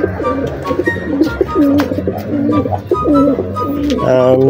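Racing pigeons coo in deep, throaty, repeated rolling calls, several birds overlapping close by in a loft, with a faint voice in the background.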